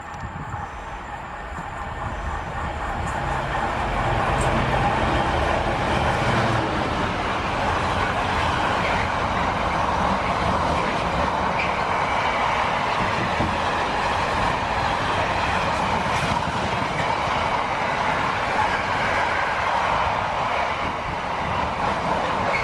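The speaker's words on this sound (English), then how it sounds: "our first freight back at Bletchley" A freight train rolls through Bletchley station on the West Coast Main Line, a steady loud rumble of wagons and wheels clattering past on the rails, continuous for the whole stretch, heard from the platform.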